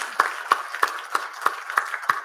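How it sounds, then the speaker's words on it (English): Sparse clapping from an audience at a youth organisation inauguration ceremony, seven or so distinct claps spaced roughly evenly, fairly faint and thin, like a few people applauding rather than a full crowd. "let's give him a clap"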